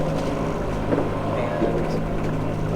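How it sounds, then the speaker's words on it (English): A sailing boat in rough seas, reefed sails and both engines running against a 25-knot wind, makes a continuous low engine drone mixed with wind and water noise, steady and close. "We have both engines running"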